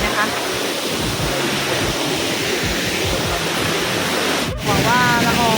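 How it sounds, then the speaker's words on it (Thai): A large waterfall at the Thai-Lao Friendship Waterfall roars in a steady, loud broadband rush of falling water that runs through the whole stretch, with only a brief dip near the end. "น้ำตกมิตรภาพไทยลาวนะคะที่เปลี่ยนไปนะก็จะเป็นน้ำตกใหญ่ๆแบบนี้เลยนะคะ"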